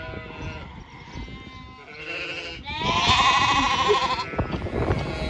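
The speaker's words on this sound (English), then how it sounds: "Here are some of the baby lambs outside playing." Several lambs bleat nearby outside a sheep barn in quick overlapping calls, some high and wavering, growing louder toward the middle.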